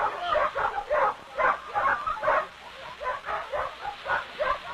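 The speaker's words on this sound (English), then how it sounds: "the swift dogs traveling a route that would be impossible for any ordinary vehicle" Sled dogs running in a fan hitch along an outport route, giving a steady series of excited yelps, yips and whines in quick rhythmic bursts, fairly close and continuous.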